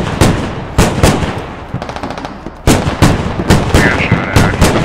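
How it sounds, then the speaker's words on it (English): Repeated gunshots ring out in the Squad video game during a 40v40 US Army combined-arms invasion of Afghanistan, loud sharp cracks arriving in irregular bursts with dense battle noise between them. "We got shot at, actually."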